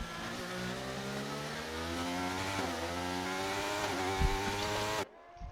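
Formula 1 race cars in F1 23 at Monza scream past at high revs, a loud sustained engine whine with pitch shifts for about five seconds before cutting off abruptly; no talk.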